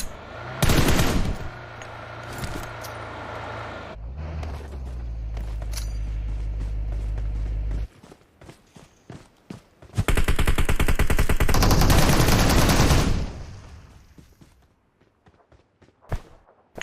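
Bursts of rapid automatic video-game gunfire crackle loudly, with a low rumbling drone between volleys and scattered single shots near the end.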